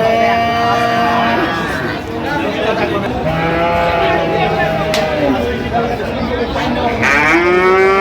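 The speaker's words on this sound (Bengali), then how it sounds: "দেখি একটু গরুগুলো যে রফিকুল ভাই কিনছেন যে গরুগুলো।" Many cattle, Sahiwal breed bulls, moo repeatedly and overlap at a busy livestock market in Dinajpur, long low calls sounding near and far over a steady crowd murmur with voices talking.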